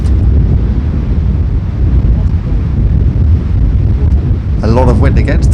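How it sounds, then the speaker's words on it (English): Strong wind buffets the microphone on a golf course, a loud continuous rushing roar throughout, with a person briefly speaking near the end. "A lot of wind against us"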